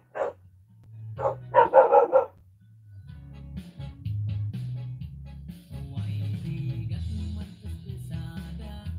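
Several dogs bark in quick bursts at close range, a cluster of sharp barks in the first two seconds, followed by low rumbling background noise and faint chatter.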